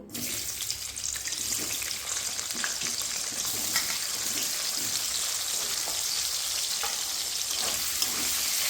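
Loud, constant sizzling of chopped peppers frying in hot oil, a dense hiss with occasional crackles and no voices.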